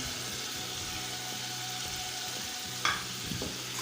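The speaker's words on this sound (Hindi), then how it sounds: "अच्छी तरह से इनको पका लेते हैं, भून लेते हैं।" Spices and soy sauce frying and being stirred for chicken macaroni, with a steady close sizzle and light scraping of the spoon, plus a brief sharper clatter near the end.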